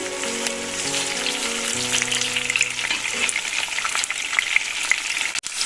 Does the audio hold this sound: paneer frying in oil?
yes